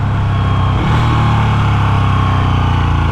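A 2017 Ducati Panigale 1299 sport bike engine runs steadily up close, a loud, even mechanical drone with a small throttle blip partway through, no voices.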